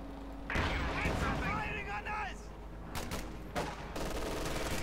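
Gunfire in the World War II strategy game Company of Heroes 2, a run of rapid, crackling bursts and sharp reports over steady battle noise, with a commentator's voice heard at times amid the shooting.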